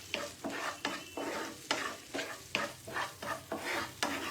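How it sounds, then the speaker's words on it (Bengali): A spatula scrapes and stirs paneer kofta curry masala in a frying pan, a regular series of close scraping strokes about every half second over a soft sizzle. "সামান্য নুন দিলাম, আবার ভালো করে নাড়াচাড়া করলাম।"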